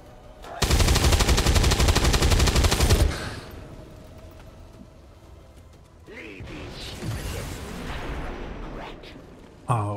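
A sustained burst of rapid automatic gunfire in XCOM 2 rattles loudly for about two and a half seconds, then cuts off into quieter mechanical game sounds and low background tones.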